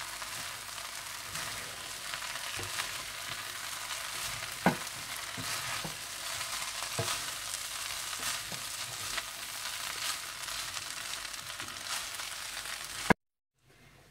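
Vegetables and rice for Schezwan rice stir-fried in a hot pan: steady loud sizzling hiss with occasional scrapes of a spatula, then a sudden cut to silence near the end.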